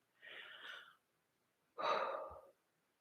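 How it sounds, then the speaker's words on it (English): Two slow, deep breaths, a long airy inhale followed by a fuller exhale, close and quiet with silence between them. "let's take a deep breath together now"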